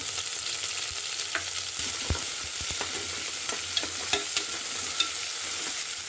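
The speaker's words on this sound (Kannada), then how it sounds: "ಇದಕ್ಕೆ ಸ್ವಲ್ಪ ಈರುಳ್ಳಿ ಹಾಕ್ಕೊತಾ ಇದ್ದೀನಿ ಕಟ್ ಮಾಡಿರೋಂಥ ಈರುಳ್ಳಿ" Chopped onions fry in hot oil for a village-style country chicken biryani, with a steady loud sizzle and occasional stirring clinks throughout.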